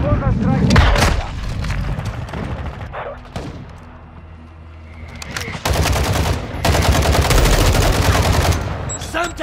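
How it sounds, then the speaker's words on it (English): Vulcan strike gunfire in Call of Duty Modern Warfare 2 multiplayer: loud bursts of rapid heavy cannon fire and booming impacts, a quieter lull in the middle, then long dense roaring volleys, with game voice callouts mixed in. "Hostile Vulcan strike in the area."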